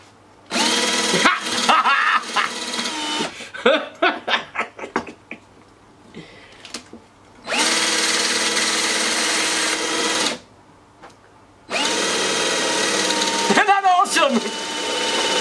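A homemade transverse flux generator spins up in bursts of loud, steady whirring, broken by short gaps and a stretch of uneven clicking and knocking, with speech heard briefly.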